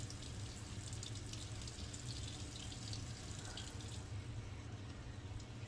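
Tap water runs steadily into a sink as a Wonder Cloth is rinsed, a quiet continuous hiss and splash with no voices, lasting about six seconds.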